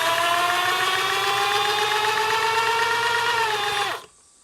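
A compact KOSKO power sprayer's motor runs with a loud, steady, high-pitched whine for about four seconds, then winds down and cuts off abruptly into quiet.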